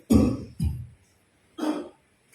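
A voice imitates a smoker's cough during a church sermon: three rough, loud cough bursts close to the microphone, two in quick succession and then a third after a short pause.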